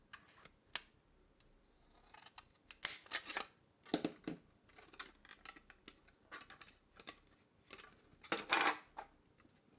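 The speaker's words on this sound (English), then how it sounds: "we need to get some scissors and carefully cut down the straight channel in the middle." Scissors snip through a plastic lamp shell along its straight center channel, giving a series of short, crisp cuts in irregular bursts, close and fairly quiet with no talking.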